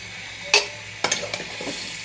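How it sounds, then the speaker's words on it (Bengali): Dal being tempered in hot oil: a sharp burst of sizzle followed by a few short clinks and stirring scrapes, brief and fairly quiet. "এই ডালটা বাগার দিচ্ছি"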